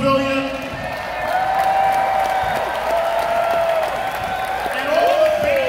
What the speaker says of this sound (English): can we get a big round of applause for everyone working here at the Merriweather Post Pavilion?